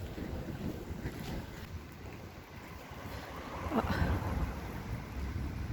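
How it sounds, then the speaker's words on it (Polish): Steady broadband hiss of rain during a storm that swells louder toward the end, with gusty wind noise rumbling underneath; no voices. "Ojej, zaczyna coraz mocniej padać."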